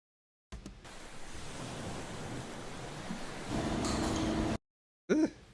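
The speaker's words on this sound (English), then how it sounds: "put the waves on so we can hear that too." An ocean-waves sound effect played back in a studio editing session, a steady broadband wash of surf that swells louder toward the end, then cuts off abruptly, followed by a brief voice.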